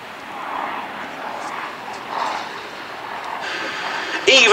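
A Westland Lysander flies at Duxford in 2017, its engine giving a steady, moderately distant drone that swells and fades slightly, then ends in a sudden louder burst.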